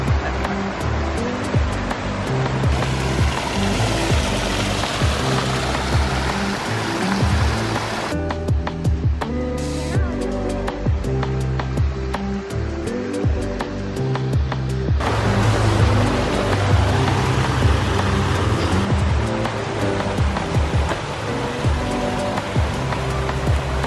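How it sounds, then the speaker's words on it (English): Backyard pond water feature shooting up like a geyser, a loud continuous rushing and splashing of water that holds steady throughout with small shifts in intensity; no talking. "Look at that, almost a geyser in the middle of this pond."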